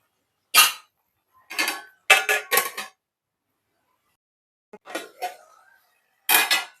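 A lid is set onto a cooking pot of ridge gourd and raw prawn curry, making several sharp metallic clanks and rattles with silent pauses between them.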